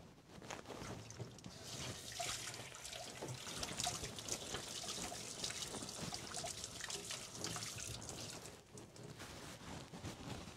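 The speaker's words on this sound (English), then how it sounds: "So I'm going to just wash my hand again." Tap water runs steadily over hands being washed at a kitchen sink while beef curry is cooked, a soft continuous splashing trickle heard close by and alone.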